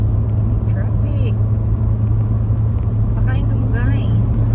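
Inside a car on a road trip through the Canadian Rockies near Lake Louise, a steady low road rumble and engine drone fill the cabin, with faint traffic noises and voices in the background.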